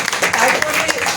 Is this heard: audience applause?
yes